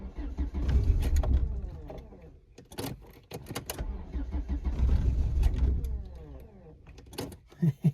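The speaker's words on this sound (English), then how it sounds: "It's a while since I've started a car with a choke." An old Renault 11 engine cranks with the choke out, sputters and catches, rumbling unevenly as it's coaxed to life, with clicks and clunks between attempts.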